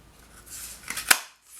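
A craft paper punch stamps a shape from designer paper, a brief rustle building into one sharp crisp snap, close and alone.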